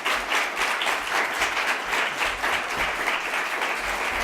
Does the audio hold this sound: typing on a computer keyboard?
no